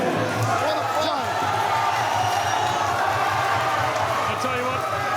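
An excited crowd cheers and roars throughout a Muay Thai bout, a steady dense wash of noise with commentators talking over it and occasional sharper shouts.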